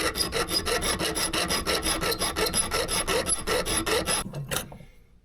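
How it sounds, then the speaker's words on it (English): A hand file rasps a square edge onto a small metal motorcycle shifter part, about twenty quick, even back-and-forth strokes close up and loud, ending in a brief clink and silence. "So maybe I'm going to shim the spring, file that square."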